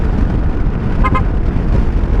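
A short double honk from a motorcycle horn on a winding road, two quick beeps over steady engine and wind rumble.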